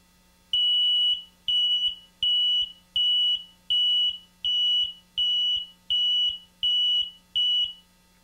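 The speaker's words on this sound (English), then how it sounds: "The 600 volt bank goes out, the audio alarm will also go out." A Hastings HLS-5 hot line indicator runs its self-test, sounding ten evenly spaced electronic beeps of about half a second each, loud and close, with a faint low hum between them and no voices.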